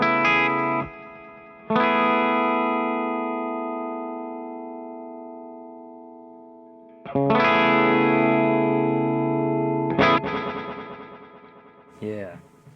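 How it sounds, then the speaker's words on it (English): Sustained tones run through the panning delay of an Ibanez SDR-1000+ effects unit, giving a space-echo sound: thick chorused chords swell in, ring on and slowly decay, with smeared echo tails and a brief scratchy burst near the end. "We got kind of a space echo thing happening."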